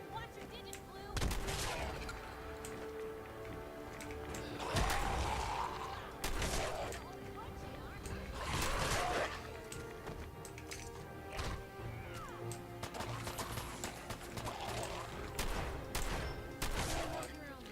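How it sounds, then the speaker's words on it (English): Shotgun blasts in the Fallout video game, several loud broadband shots spread irregularly across the scene amid game sounds, with a person talking over them. "I missed 3 point-blank shotgun shots."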